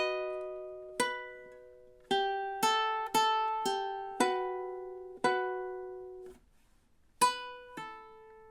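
Fingerpicked guitar phrase of single notes and chords plucked in a steady rhythm, each attack ringing and decaying, with a short pause before the final notes; close and clear, no talking.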